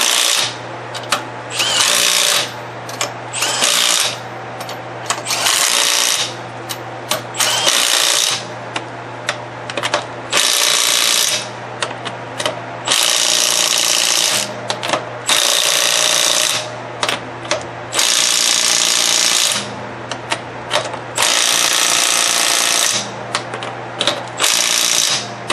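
Power tools tighten the strut bolts on a 2005 Toyota Highlander in bursts of loud whirring impact rattling, about a dozen short runs separated by brief pauses, close and without talk.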